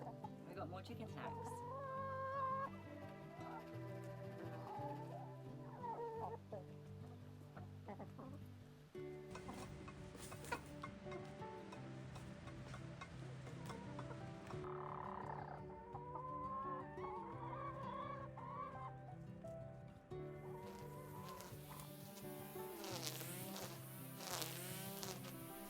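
Backyard garden chickens cluck and murmur continuously over nearly half a minute, close and fairly clear, with insects buzzing around them and occasional rustling and handling noises, including a brief louder disturbance near the end.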